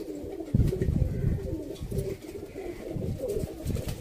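Teddy pigeons cooing at close range, kept by pigeon fanciers in Sialkot, with low, throaty coos repeating over a murmur of other birds for about four seconds.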